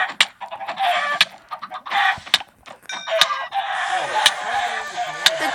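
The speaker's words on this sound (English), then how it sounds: "Oh, chickens! Chickens! Chickens!" Chickens cluck and squawk in bursts in a chicken-war video game, close and fairly loud with short gaps, a couple of sharp clicks between calls and no speech.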